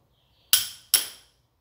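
Two sharp metallic clinks, a short beat apart, come from a tool working on the screw of a spring housing during a triple-spring adjustment. Each strike rings briefly, then fades into near silence.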